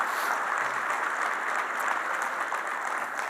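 An audience at a talk breaks into a short, soft round of clapping, an even and fairly distant patter with no voices over it.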